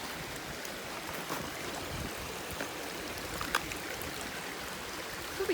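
Water rushing across a hiking trail at Clarion, Pennsylvania, running unusually high: a steady broadband wash of flowing stream, close and continuous, with a few faint knocks and clicks on top and no talking.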